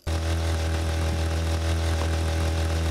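A motorcycle engine in the battle royale game TABG drones steadily at a constant throttle, loud and close, with a low, buzzing hum and no talk.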